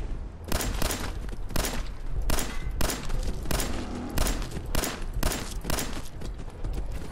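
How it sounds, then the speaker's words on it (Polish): Bursts of gunfire from the video game Fallout 4 come in roughly a dozen loud, regularly spaced shots with booming low ends. "Strzał w głowę."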